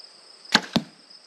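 Two sharp snapping impacts in quick succession, a compound bow's string release and the arrow striking, over a faint steady background hum.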